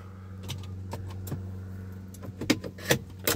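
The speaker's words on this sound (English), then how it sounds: "Take your key out, and then you're safe to do stuff" A car key is drawn out of a BMW 325i ignition, giving a few sharp metallic clicks and a light jangle of keys in a quiet cabin, the taps growing louder toward the end.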